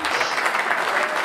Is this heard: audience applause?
yes